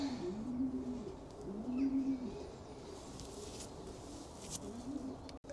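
Racing pigeons cooing in a loft, several low rolling coos repeating in a steady rhythm, close and soft over a constant background hiss.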